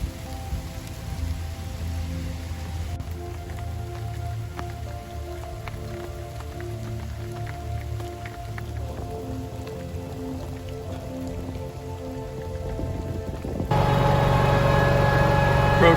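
Steady rain pattering on a golf course under trees, a dense continuous drizzle of drops with a low engine hum beneath, growing louder and heavier in the final seconds.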